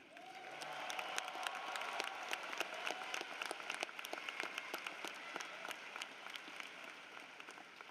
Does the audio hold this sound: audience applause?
yes